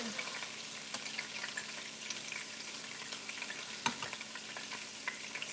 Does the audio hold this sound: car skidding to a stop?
no